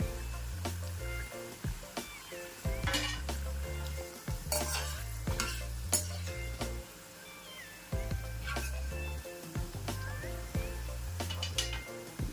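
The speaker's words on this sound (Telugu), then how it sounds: "కాకరకాయలు వేగినాయి కాబట్టి మనం తీసేస్తున్నాం" Bitter gourd pieces sizzle loudly in hot oil while a spoon stirs and scrapes them out of the pan, with repeated clanks against the vessel, close and busy throughout.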